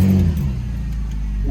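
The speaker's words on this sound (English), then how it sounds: "Go ahead and start the car." A car engine fires up and settles into a loud, low idle rumble, the initial burst giving way to a steady throb.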